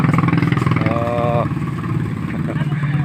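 A motorcycle engine runs steadily through a narrow passage only wide enough for one bike, with a person talking over it throughout.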